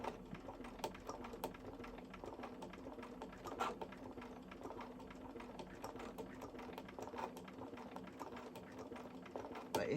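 A sewing machine with a free motion foot runs in a steady, fast rapid ticking stitch for the whole stretch, close and fairly quiet, with a few sharper clicks and no talking.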